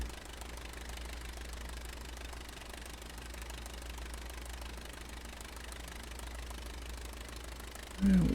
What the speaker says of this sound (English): you also want to cut the engine to idle once you hit the threshold